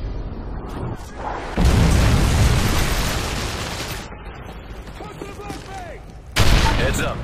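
A Predator missile strike lands in a Modern Warfare 3 multiplayer Domination match. Two sudden loud blasts hit about five seconds apart, with rumbling game noise and scattered effects between them.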